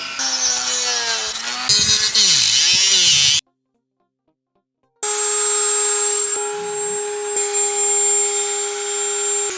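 Power tool cutting a plastic ray gun prop, a loud close high-pitched whine that dips under load, breaks off into silence, then resumes as a steady shrill buzz.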